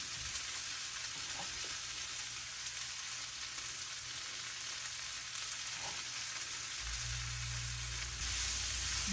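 Sausage and basil frying in a pan with peppers and onions, a soft, steady sizzle throughout with a faint stir and a brief louder crackle at the very end.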